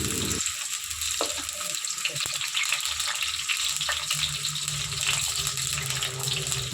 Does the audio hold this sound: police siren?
no